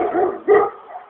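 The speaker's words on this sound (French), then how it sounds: "Oui, il y a un petit chien." A small dog barks close by: two sharp, loud barks in quick succession, the second the strongest, followed by a softer yip, with no talking.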